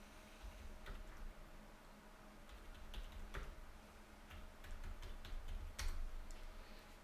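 Keys clatter on a computer keyboard as a terminal command is typed, with quiet, close, irregular taps in quick bursts and short pauses, some strokes sharper than others.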